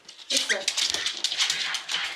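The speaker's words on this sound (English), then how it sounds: "Already we've got a dog who's pretty hyper, pretty excited." Excited dog whimpering and whining in short, high, rapid bursts as a muzzle is put on, close by, with people talking over it.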